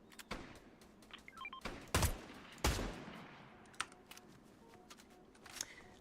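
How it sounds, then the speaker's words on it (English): Fortnite gunfire: scattered sharp shots with several loud, close bursts in quick succession, then a few lighter, quieter cracks, and no talking. "At least I can shoot a downed opponent"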